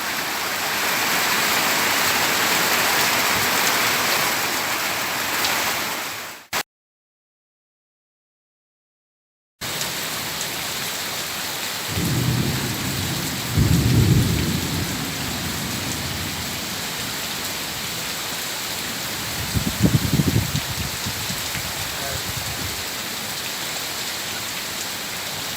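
Heavy rain pours down on Bonaire in a dense, continuous hiss, cut by a few seconds of silence, with a few low thudding bursts that may be thunder or wind knocks.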